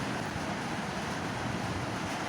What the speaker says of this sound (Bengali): দেখো কি জোরে বৃষ্টি পড়ছে